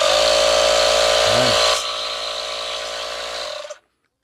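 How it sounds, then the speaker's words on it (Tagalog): Small electric tire inflator motor running steadily with a loud, constant whine, the pitch dropping slightly partway through before it shuts off near the end. "Gumagana pa itong ating tire inflator."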